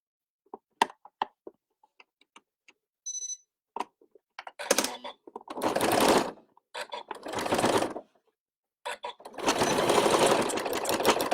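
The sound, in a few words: sewing machine stitching elastic with forward and reverse stitches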